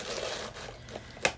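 A plastic bag of dog treats crinkles and rustles up close in a string of soft crackles, ending in one sharper crunch, with no one speaking.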